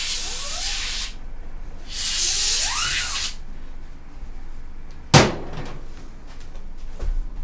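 A can of compressed air blasts dust out of an HP Omen 15 laptop in two short, loud hissing sprays close up, followed by a sharp knock against the machine.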